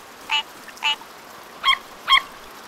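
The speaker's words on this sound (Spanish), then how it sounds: "Esta rana suena como patos y tiene líneas en la espalda" Four short, nasal quacking calls from a frog sound in two pairs against quiet background hiss, resembling a duck's call.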